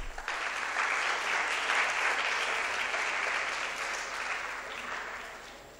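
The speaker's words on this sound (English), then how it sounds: "A huge round of applause for Mr." Sustained applause from a seated audience greeting a panelist: a broad, even roar of many hands clapping that swells early on, holds steady, then slowly tapers off toward the end.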